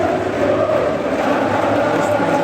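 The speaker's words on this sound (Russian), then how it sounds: "заслуженные аплодисменты игрокам Фиорентины со всех трибун" Stadium crowd applauding Fiorentina players from all stands after a conference league match against West Ham, a dense, steady roar of distant clapping and crowd noise filling the whole moment.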